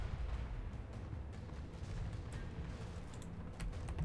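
Cannon artillery in the Total War: Warhammer battle game fires repeatedly with dull booming thuds. The blasts sound over a continuous rumbling battlefield din, with no talking.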